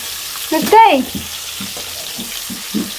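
Hot oil crackles and sizzles in short bursts near at hand, with a brief voice-like sound partway through.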